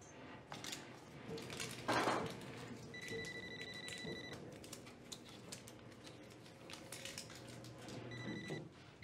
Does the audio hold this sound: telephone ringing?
yes